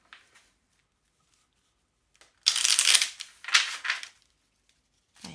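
Belline oracle cards are shuffled in two brisk, close riffling bursts after near silence, with a short clack at the very end.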